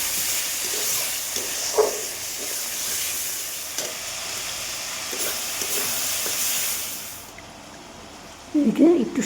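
Fish curry masala with turmeric is sautéed in a pan, giving a steady close sizzling hiss with soft stirring scrapes, fading near the end before a brief voice.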